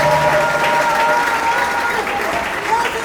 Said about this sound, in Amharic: ለእግዚአብሔር ክብር አጨብጭቡ